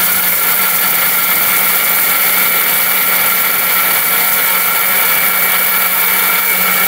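A powerful steel-bush robot blender motor runs at full speed grinding raw turmeric, a loud, constant high-pitched whine and grinding roar that holds steady throughout with no pauses.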